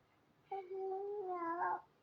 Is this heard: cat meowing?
yes